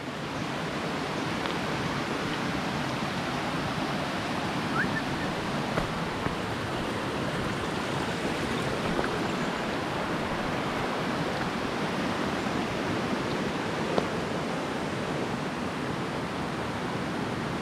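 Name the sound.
river flowing below near Kadamagundi waterfall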